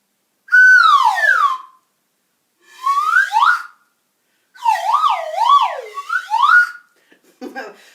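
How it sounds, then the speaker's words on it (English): A slide whistle glides up and down in pitch across four separate bursts, with wobbling swoops in the third, followed by a brief rustle at the end. "This is a slide whistle."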